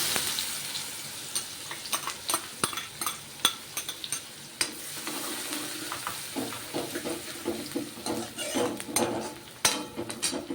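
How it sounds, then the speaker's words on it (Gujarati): Onions fry in a pan with curry leaves, a continuous sizzle broken by frequent scraping stirs of a spatula against the metal, close and fairly loud with no speech. "તો ડુંગળીને આપણે ગોલ્ડન બ્રાઉન કરીશું"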